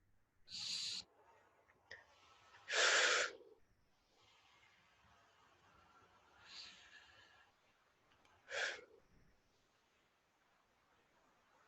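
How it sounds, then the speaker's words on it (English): Slow, deep breaths during a guided mindfulness meditation, several soft breathy inhales and exhales spaced apart in a quiet room, close and gentle. "And just taking a few deep breaths now."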